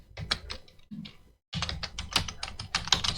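Rapid typing of HTML code on a computer keyboard, a dense run of close clattering keystrokes with a brief pause near the middle before resuming steadily, no voices.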